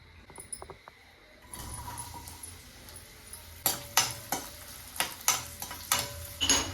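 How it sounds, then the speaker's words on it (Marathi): Onion tempering for a homemade brinjal bharta starts in a pan: a quiet moment, then a rising sizzle broken by repeated sharp clinks of a spatula stirring against the metal, close and regular toward the end. "फोडणी करायची कांद्याची"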